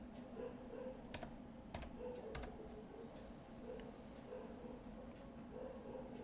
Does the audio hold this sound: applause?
no